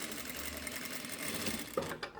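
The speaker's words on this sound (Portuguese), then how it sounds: "Só uma costurinha de segurança" A sewing machine runs a safety stitch on a 3D fabric face mask with elastic, a steady close whirring of rapid stitches that carries for about two seconds and then stops abruptly.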